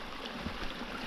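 Steady water flow in a seasonal river stream fed by rain, a continuous soft rushing wash heard up close and alone, with no voices.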